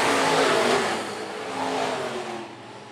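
Modified race cars at Phillips County Raceway roar past loudly, the engine noise peaking early, dipping, then swelling again with another pass before fading as the cars pull away.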